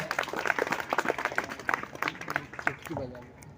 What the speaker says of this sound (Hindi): इनके लिए आप जोरदार तालियां